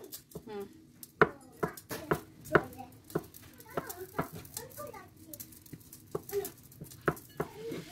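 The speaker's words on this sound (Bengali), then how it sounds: "আলুটা আগেই সিদ্ধ করে রেখেছিলাম, এখন সাইজ মতন কেটে নিচ্ছি" Boiled potatoes chopped with a knife on a board, a series of sharp, irregular close taps spread through the clip, with faint voices in the background.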